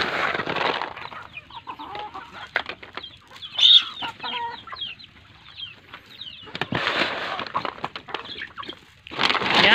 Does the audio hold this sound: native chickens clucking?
yes